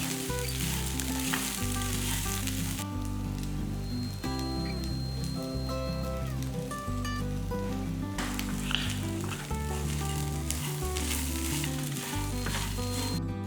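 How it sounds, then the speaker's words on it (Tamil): Drumstick leaves and grated coconut sauté in a hot pan, a dense crackling sizzle with rhythmic stirring scrapes, close and continuous, softening briefly midway before swelling again. "தேங்காயும் போட்டு நல்லா வதக்கும் போது"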